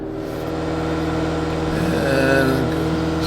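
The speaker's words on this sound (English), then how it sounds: "We need to know how good this thing is 0 to 60. I am set in the race mode." A 2017 Fiat 500X AWD accelerating from a standstill toward 60 mph in race mode, a steady engine drone building gradually and swelling louder near the end, heard from inside the cabin.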